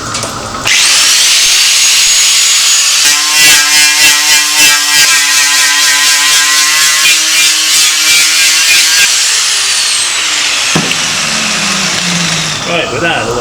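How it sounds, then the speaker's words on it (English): An angle grinder fitted with a sanding disc screams at high speed while stripping paint off a steel bobber fender, a loud, continuous whine with rough, chattering grit that wavers as pressure changes. "I've got a sanding disc on the grinder"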